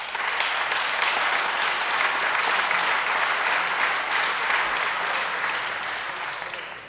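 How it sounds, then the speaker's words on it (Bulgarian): Steady, dense applause from a crowd in the Bulgarian National Assembly hall fills the whole stretch, loud and even throughout, with no voices heard over it. "това е за ръкопляскане"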